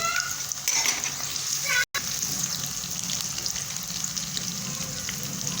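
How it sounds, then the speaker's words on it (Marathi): Onions and peanuts fry in a pan for a traditional Bhogi vegetable dish, giving a continuous hissing sizzle with a brief dropout partway through. "कांदा थोडा भाजून घेऊ हे पहा कांदा फ्राय झालेला आहे आपण शेंगदाणे टाकून घेऊ"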